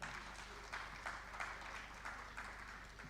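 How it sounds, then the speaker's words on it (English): Soft, distant applause from a small audience, with clapping swelling in a few short bursts against a low hum. No one speaks. "A round of applause for them."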